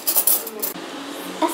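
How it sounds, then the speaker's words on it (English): Metal cutlery, forks and spoons, is set out on a table at home, giving a few bright clinks and clatters close by, followed by quieter handling. "A fork here, a spoon here."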